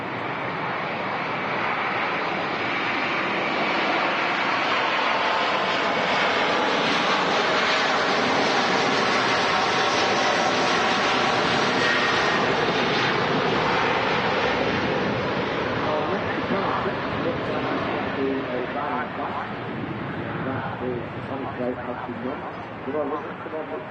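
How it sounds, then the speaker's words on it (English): An airliner with CF6 engines takes off at Manchester Airport, a loud, sustained roar that builds and holds for the whole stretch with a broad rushing texture, easing slightly toward the end as the jet climbs away. "Them CF6 engines do make a racket."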